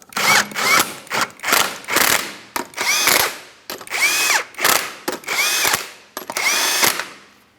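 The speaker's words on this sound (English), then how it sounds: "I'm torquing each one of my 21mm lug nuts to 80 foot-pounds. I've got my torque wrench." A torque wrench ratchets as it tightens 21mm lug nuts to 80 foot-pounds on a 2011-2026 Mitsubishi Outlander wheel. About nine close, short, even bursts of rapid clicking are separated by brief pauses, with no talk.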